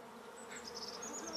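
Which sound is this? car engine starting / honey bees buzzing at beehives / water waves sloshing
honey bees buzzing at beehives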